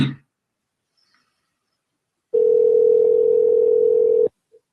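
A steady telephone dial tone hums alone for about two seconds during a prank phone call, then cuts off abruptly, leaving near silence.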